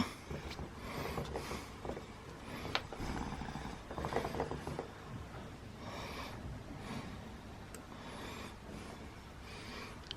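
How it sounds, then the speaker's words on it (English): Clicks, scrapes and small metallic ratcheting as the cover and split pin are removed from the rear wheel of a Honda Bros motorcycle, a busy run of close mechanical noises with no talking. "Pop the cover off, take the split pin out,"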